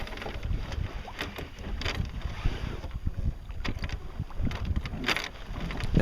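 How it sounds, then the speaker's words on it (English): A sailboat under way downwind as the mainsail is pulled in before a jibe, with continuous wind buffeting, water wash and scattered creaks and rope sounds. "now I'm pulling in my mainsail and getting ready to jibe"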